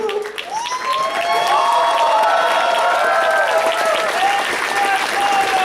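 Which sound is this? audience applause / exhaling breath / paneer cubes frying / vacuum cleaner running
audience applause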